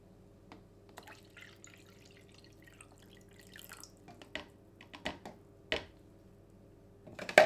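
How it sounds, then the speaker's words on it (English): A homemade seaweed and vitamin C film developer mixture trickling into a jug, heard as quiet scattered drips and splashes that build toward a denser pour near the end, close up in a quiet room. "Now that my vitamin C has been mixed, I'm going to pour in my seaweed mixture."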